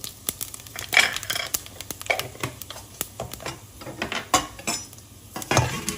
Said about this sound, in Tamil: இதெல்லாம் ஒரு நிமிஷம் நல்லா வதக்கிக்கலாம்.